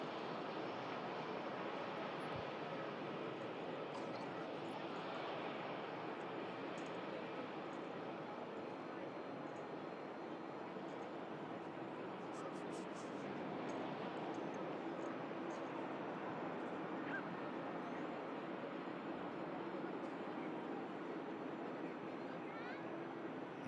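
A jet aircraft inbound to Manchester Airport from Amsterdam Schiphol makes a broad, continuous engine roar that holds steady and moderately distant for over twenty seconds, with no talk over it.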